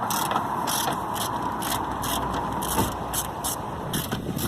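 A ratchet wrench undoes two small bolts beside a shock absorber on a Honda Accord Mk6 during strut replacement, giving a quick run of close, loud clicking bursts over steady background noise.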